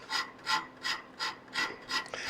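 A number 13 Lagier rasp shapes wood in six evenly spaced strokes, each a bright, coarse rasping sweep, close and alone with no voices.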